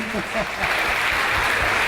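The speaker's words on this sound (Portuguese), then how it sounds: "Uma salva de palmas" Applause from the audience at a Sesc senior programme gathering in Brazil, a broad steady wash of clapping with some voices mixed in underneath.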